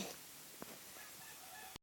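A chicken clucks in the Minecraft video game, a faint, brief cluck sitting under a steady background hiss, with a soft click and little else before the sound cuts off.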